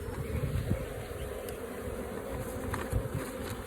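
Honey bees buzz at an open beehive, a dense, steady drone that holds close and even throughout with no pauses.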